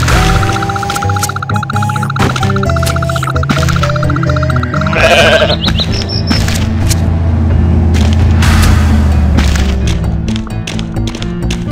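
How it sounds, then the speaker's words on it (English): Goat bleating in the video game Goat Simulator, a loud drawn-out bleat sitting amid game music and sound effects with a thumping boom, continuous and dense throughout. "That's a goat."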